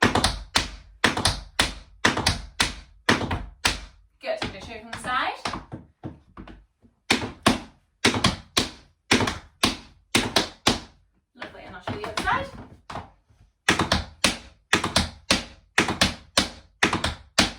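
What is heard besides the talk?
tap dance shuffle steps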